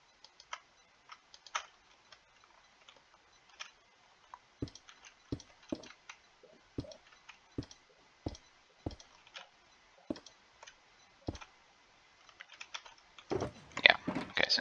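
Sharp computer mouse clicks in an irregular series while playing Minecraft, some landing singly and some in quick pairs, with a dense burst of rapid clicking near the end; no voices.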